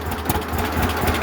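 A 1937 unstyled John Deere A tractor engine idling out of gear, a steady low rumbling chug with a rough pulsing rhythm, close and continuous with no talking.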